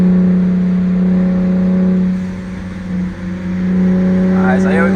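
Turbocharged 500 hp Saab 9-3 Aero convertible with a big turbo pulling hard, a loud steady engine drone from inside the car that dips briefly and then rises again, with a voice audible at times.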